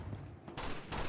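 Gunfire in the video game Uncharted 2, two close, loud bursts of shots in quick succession over a short stretch.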